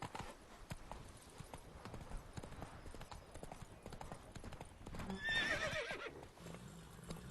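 Horse hooves clip-clopping steadily in the video game The Witcher 3, with a brief whinny near the end, moderately faint under game ambience.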